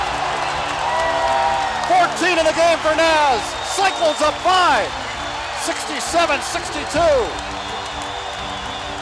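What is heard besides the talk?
basketball arena crowd cheering and applauding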